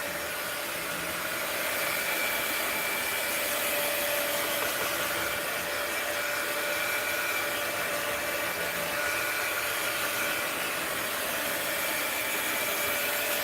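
Hair dryer blowing steadily to dry a sprayer in a home art studio, a continuous close, loud whooshing hum with no pauses for the whole stretch.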